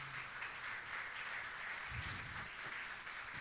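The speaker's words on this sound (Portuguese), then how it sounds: "Glorifique o Senhor com as suas palmas." A church congregation claps during a Portuguese-language Baptist worship service, a steady, fairly faint patter of many hands with a few louder low thumps near the end.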